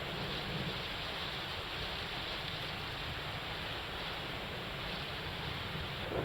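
Torrential monsoon rain pours down in a steady, dense roar, an unbroken hiss of downpour that stays constant throughout with no speech over it.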